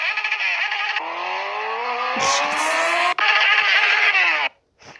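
A car skids with its brakes failing, giving a loud, sustained engine and tire squeal that rises in pitch. A sharp impact-like break lands mid-way, the sound carries on, then cuts off abruptly near the end.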